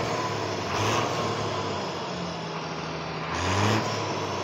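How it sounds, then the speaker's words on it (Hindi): A Punjab-registered Leyland twelve-wheeler truck idles with a deep diesel engine drone, swelling twice into louder revving bursts with a hiss of air near the end, heard close and without speech. "बारह टायर गाड़ी"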